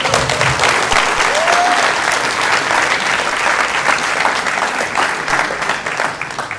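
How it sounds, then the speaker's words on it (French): A room full of people claps loudly and steadily after a call for a thunder of applause, dense clapping filling several seconds and slowly tapering, with a faint voice briefly rising above it. "je vous prie de faire un tonnerre d'applaudissements"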